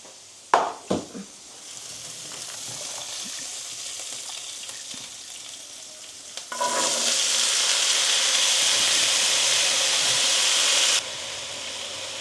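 Carrot, potato and bean samosa filling hitting hot oil in a pan: a few sharp knocks at the start, a quieter sizzle, then a sudden loud burst of hissing frying with stirring that runs for several seconds before dropping back down.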